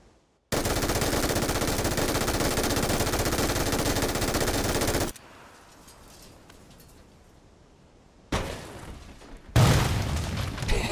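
An MG3 machine gun in PUBG fires one long, extremely rapid burst lasting several seconds, loud and continuous, then falls quiet before a couple of shorter loud bursts and booms near the end.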